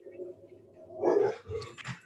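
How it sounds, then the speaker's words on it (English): A dog barks at someone outside from behind glass: a few muffled, mid-distance barks and whines over low room noise. "See, Paul does have an attack dog."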